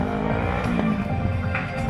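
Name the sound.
motorbike doing a backwards drifting burnout on front bumper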